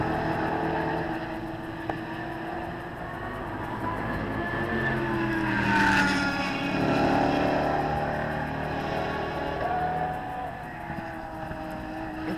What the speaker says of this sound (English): Cars constantly whip past us